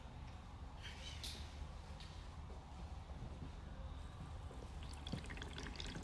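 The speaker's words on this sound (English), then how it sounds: "We see it trickling down the sediment into the carbon, into the membrane, and finally to the DI" Water trickles and drips through an AquaFX Barracuda RO/DI filter system, from sediment and carbon stages into the membrane and DI stage, a quiet, continuous liquid patter with scattered small drips, heard close with no speech.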